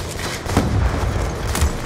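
A semi-auto sniper rifle fires in Call of Duty Black Ops II. A few sharp, booming shots land about a second apart over a steady game background, close and fairly loud.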